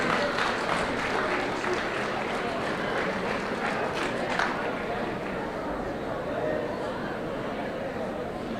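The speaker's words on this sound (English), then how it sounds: "how about a huge round of applause for these two people that were daring enough to come sit front" Audience applause fills a comedy show at the Kingswood Arts Center, a steady dense wash of clapping with crowd murmur and cheers throughout, holding even and loud for the whole stretch.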